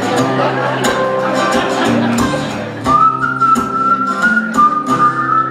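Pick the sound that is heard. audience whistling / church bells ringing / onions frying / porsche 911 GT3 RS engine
audience whistling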